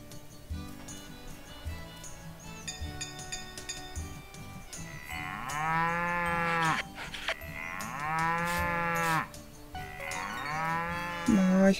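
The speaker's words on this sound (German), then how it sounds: "Ich mag es auch, Kühe zu streicheln." Several video game cows moo loudly in long, drawn-out calls, one after another over a busy background of chimes and clatter, with a brief bleat near the end, from Story of Seasons: Pioneers of Olive Town.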